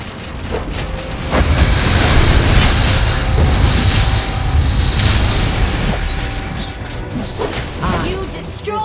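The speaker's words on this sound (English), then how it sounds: "You destroyed a turret!" An explosion as a turret is destroyed in the Mobile Legends video game, a dense, rumbling blast with crashing debris and whooshing effects that stays loud and sustained over busy battle sounds.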